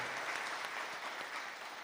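A hall audience breaks into steady, dense clapping at an interview event, moderately distant and continuous without voices.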